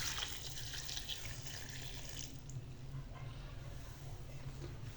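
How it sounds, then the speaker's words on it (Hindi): Water from a half glass poured into a chana dal mixture for shami kababs, a steady close splashing pour that thins out midway, with no talk. "हाफ गिलास पानी का शामिल कर लेते हैं।"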